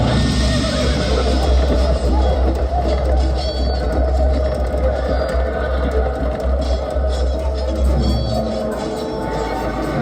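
Horses neigh and whinny amid a loud, dense roar of rushing floodwater as soldiers drive them into a swollen river, part of a dramatized light and sound show, with voices mixed into the constant wash.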